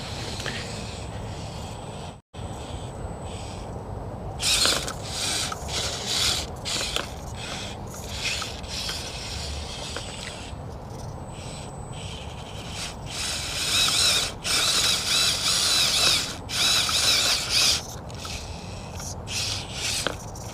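A small RC car with a 130 motor and two-speed transmission runs in high gear, giving a whirring mechanical drone broken by bursts of louder grinding and scraping as it climbs over rough ground.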